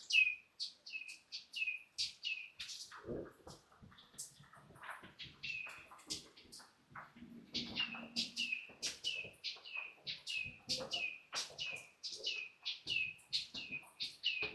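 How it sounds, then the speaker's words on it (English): A yellow bird sings from a tree outdoors in a run of repeated bright chirps and short tweets. The calls come steadily and clearly, with faint low sounds now and then beneath them. "Gorgeous, gorgeous yellow bird up here in the tree."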